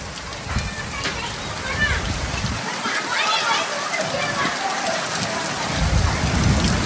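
Heavy rain with hail clatters on clay roof tiles during a thunderstorm, a loud continuous downpour with a low rumble near the start and end and scattered sharper impacts on top.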